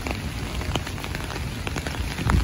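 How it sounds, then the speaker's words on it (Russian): Steady rain patters on a surface, a dense hiss with scattered individual drops ticking louder now and then, close by. "Слышите, какой дождик?"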